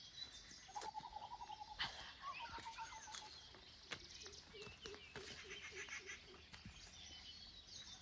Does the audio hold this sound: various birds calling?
yes